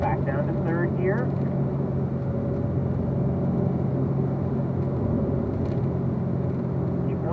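A Corvette Z06 on a race track, its engine holding a steady, loud drone with a low rumble that runs the whole way through, with a voice talking over it.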